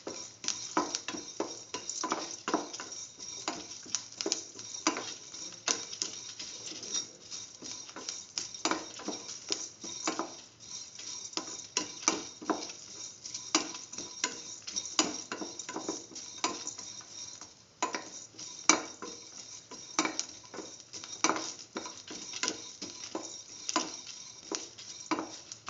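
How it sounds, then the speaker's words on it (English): Ash gourd and egg stew sautéing in a pan, with a steady stream of quick clicking spatula taps and scrapes over a faint sizzle, close and fairly quiet throughout, no talking. "Thoroughly sauteing it."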